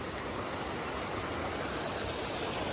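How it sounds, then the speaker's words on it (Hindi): A small waterfall stream at a mountain temple flows beneath rocks, giving a steady, dense rush of water that carries evenly through the whole clip with no voices. "देखो पानी वहाँ से आ रहा है ना झरना बन के"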